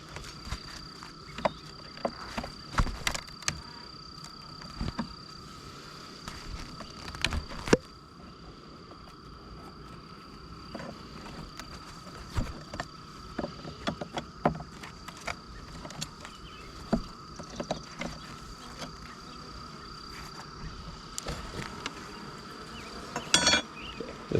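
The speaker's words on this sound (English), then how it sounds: "So what we'll do is brush off the bees." Honey bees hum steadily around an opened hive during a spring honey harvest, a continuous close buzzing broken by scattered clicks and knocks.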